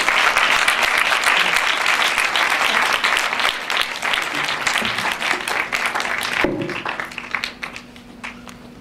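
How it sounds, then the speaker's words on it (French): An audience at a short-film screening breaks into loud, dense applause that holds steady for several seconds, then thins abruptly into scattered claps and fades out. "et on peut les applaudir"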